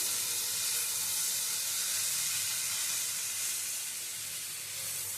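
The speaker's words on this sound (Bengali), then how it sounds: "এবার একটু নেড়ে চেড়ে নিচ্ছি।" A drumstick-flower chorchori dish sizzles steadily in a pan while it is stirred, making a bright continuous hiss close by with no voices.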